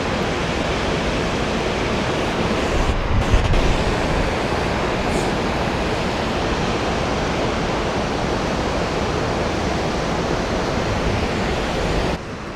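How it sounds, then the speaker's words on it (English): A small waterfall at the bottom of Bell's Gorge on the Gibb River Road pours with a loud, steady rushing roar that continues unbroken throughout. "at the bottom of Bell's Gorge, you've got another little waterfall here"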